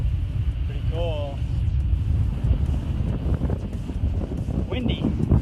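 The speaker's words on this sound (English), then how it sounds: "Wind's right in my face, and I'm going uphill." Wind buffets the microphone in a low, rumbling roar throughout while cycling uphill into a headwind on a Korean bike path, with a few faint tonal chirps in the background.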